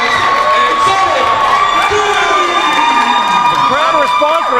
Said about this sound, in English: The crowd response for these two is electric.